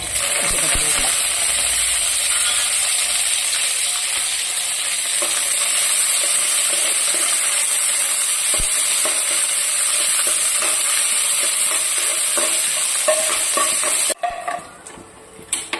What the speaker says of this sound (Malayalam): നമുക്കിനിയും വറ്റലമുളകും കറിവേപ്പിലയും